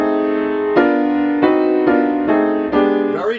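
Dissonant piano chords with the root raised a half step, struck six times in a steady rhythm and sustained close up, ending in a brief flurry of higher notes.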